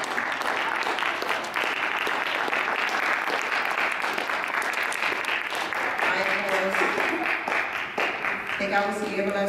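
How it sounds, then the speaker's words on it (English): A standing audience at a 2013 children's Black History oratorical contest claps loudly and steadily for the full stretch, a dense wash of applause, with voices audible underneath. "let's stand up and give me a good clap"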